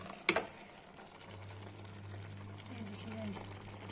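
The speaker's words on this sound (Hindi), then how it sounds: "ये भूंज रहा है, 15 मिनट भूनेगा।" Lotus stem (nadru) sabzi with chilli, turmeric and tomato frying in a pan, a soft steady sizzle with a brief clatter near the start, while voices talk over it.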